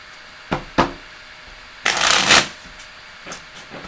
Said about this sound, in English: so we will do 2 more shuffles